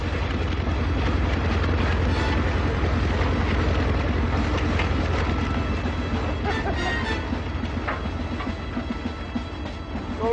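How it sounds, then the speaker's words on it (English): A tractor's engine rumbles steadily and loudly throughout, a dense low drone with rattling, clanking mechanical noise and some wind buffeting, with no voices. "it's only a tractor."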